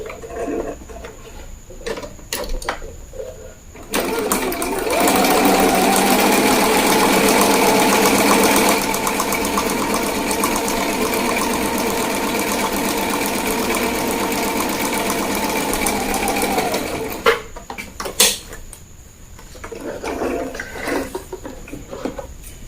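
A sewing machine runs steadily for about twelve seconds, stitching a boning channel into the back of a corset bodice. The motor drones loud and close, with a few clicks and handling noises before and after.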